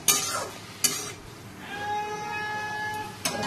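Potato and pointed gourd fry in a pan under a continuous sizzling hiss, punctuated by a few sharp metallic scrapes and clinks from stirring at the start, middle and end.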